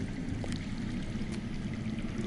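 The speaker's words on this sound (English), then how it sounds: "I hear water. From underground." Underground water running steadily in a video game scene, a continuous low rushing flow, fairly quiet and even throughout with no voices.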